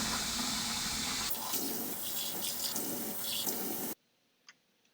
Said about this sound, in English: I'm washing the dishes.